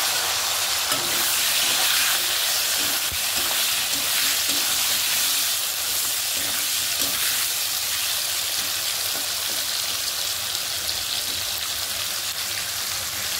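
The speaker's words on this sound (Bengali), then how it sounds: "আলুটা ভাজা নেব।" Potatoes sizzle steadily in hot oil in a home kitchen while cooking a cashew paneer curry, a close, even hiss that continues without a break and with no talking.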